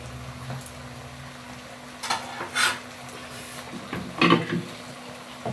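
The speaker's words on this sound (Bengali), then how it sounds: "এবার একটু ভালো করে নেড়ে নিতে হবে।" Mutton curry with potatoes being stirred in a pan, a few scraping and clattering strokes of a spoon over a low steady sizzle, close by with no talking.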